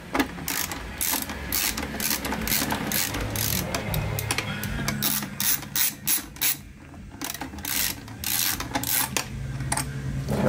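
A ratchet wrench removes a screw on a 1985 Yamaha Virago XV700 motorcycle, with rapid, loud, close pawl clicking in continuous runs and short pauses between strokes, and no speech.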